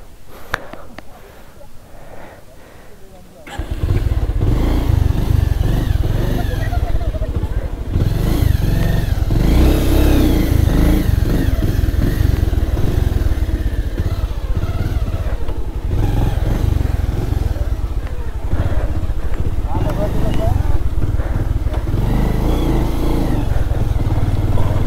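A motorcycle engine runs loud and close, with repeated revving surges and a rough idle rumble after a quieter opening. Voices talk over it.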